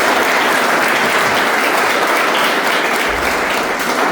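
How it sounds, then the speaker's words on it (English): A crowd claps loudly and continuously at a mayoral reelection announcement held in a small business in Pawtucket, Rhode Island, a thick, steady roar of applause with no speech over it. "If you give them a round of applause."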